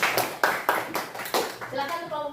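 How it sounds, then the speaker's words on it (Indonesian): A classroom of students claps for the first presentation group in a quick rhythmic pattern of sharp, loud bursts, with a voice chiming in toward the end. "Tepuk tangan dulu dong buat kelompok 1."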